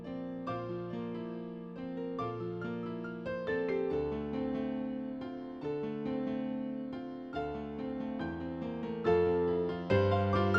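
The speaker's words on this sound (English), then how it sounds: "we have this extremely complicated piano pattern" Intricate piano pattern in an FL Studio beat, with layered bass notes and quick upper-register runs weaving in a busy, flowing melody, clean and fairly quiet, no voices.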